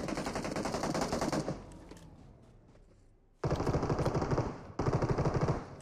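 Rapid automatic gunfire bursts in a shooter video game, three dense volleys with a short quieter gap between the first and second, loud and close with no talk.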